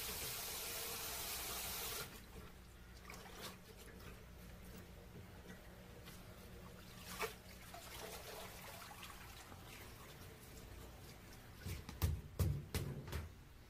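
Rock tripe mushrooms are rinsed in cold water, starting with a brief steady rush of running water, then quiet splashing, swishing and dripping with occasional soft knocks nearby.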